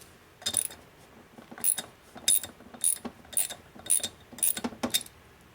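A wrench works a cylinder stud loose on a rusty 1952 Harley 74ci panhead during a top-end rebuild, giving a run of quick metallic ratcheting clicks in short bursts, close and fairly loud.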